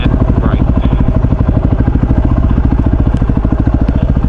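A motorcycle engine thuds under heavy engine braking on a steep, chopped-up muddy descent, a loud, close, rapid pulsing throb that holds steady throughout.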